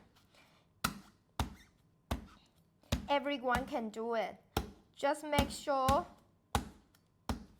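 Sharp, loud knife blows cracking a fresh coconut shell, struck at a steady pace about every half second to a second, with a person talking between and over the strikes.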